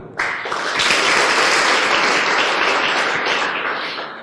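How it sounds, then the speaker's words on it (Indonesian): Loud, sustained applause from an audience fills the whole stretch, steady clapping from many hands with no talking over it. "Tepuk tangan buat Anda dulu."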